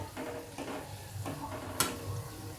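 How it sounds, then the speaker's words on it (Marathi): Moong dal pakoras frying in oil over a low flame, a soft steady sizzle with a few gentle stirring scrapes and one brief sharp clink, no voices. "अशी बारीक गॅसवरच चांगले तळून घ्यायचे"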